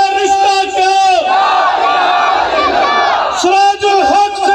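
A rally crowd led by Siraj ul Haq chants slogans in loud unison, answering a leader's call in a rhythmic call-and-response pattern, with massed voices swelling and roaring between shouted lines.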